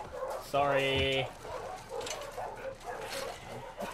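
A dog in The Last of Us Part II gives a brief, loud whining yelp with a rising, wavering pitch, heard close, while people talk softly around it.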